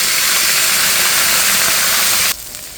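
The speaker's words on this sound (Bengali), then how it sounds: "এখন দিয়ে দিচ্ছি একটু গরম জল" Hot water hitting a pan of frying cumin, black cumin and onion, giving a loud sustained steamy sizzle that cuts off sharply to a quieter hiss.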